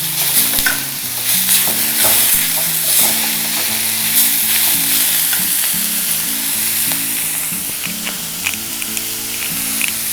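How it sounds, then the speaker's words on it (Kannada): Vegetables for palya with tomato sizzle and fry steadily in a hot pan while being stirred, a loud continuous crackle with scraping strokes and no voices. "ಹೀಗೆ ಫ್ರೈ ಮಾಡಿ ತೊಗೊಂಡ್ರೆ ಚೆನ್ನಾಗಿರುತ್ತೆ"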